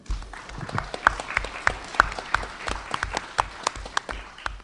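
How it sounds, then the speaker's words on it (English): A small live crowd at a Shocktober event in Irvington claps for two guests, a fairly sparse, uneven round of distinct hand claps with some heavier thumps underneath, moderately close and without talk. "why don't you guys give a round of applause to Jarrod and Brandon?"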